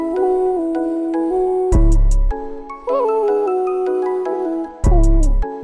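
A voice processed into a flute-like effect with pitch correction in Logic Pro X, sung in C sharp natural minor as smooth gliding breathy notes broken by bursts of low buzzy noise and short pauses.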